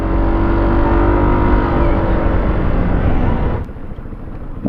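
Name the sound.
FKM Slick 150 motorcycle engine idling quietly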